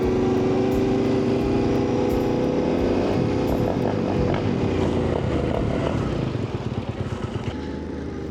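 Yamaha T7 motorcycle riding on dirt trails, its engine a loud, continuous close drone with shifting revs and rising pitch, fading slightly near the end, with no one talking.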